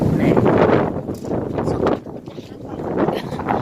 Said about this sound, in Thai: ลมแรงเกิน